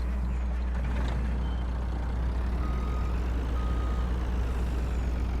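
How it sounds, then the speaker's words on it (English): A truck backs up in a farming roleplay game, its steady engine rumble joined by thin intermittent reversing beeps and a brief hiss like an air brake, all continuous and fairly close with no talk. "We'll back this truck up"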